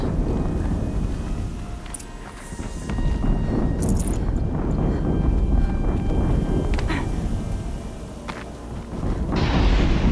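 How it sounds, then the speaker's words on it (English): Booming explosions in the video game Horizon Zero Dawn, a dense rumbling low roar with a few sharper bursts, sustained loud throughout and ending on a hissing swell. "Another explosion."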